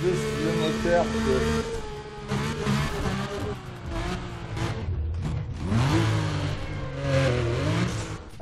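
A car engine in Need for Speed Undercover revs and roars in rising and falling waves with gear shifts and an occasional tire squeal, while a voice talks over it.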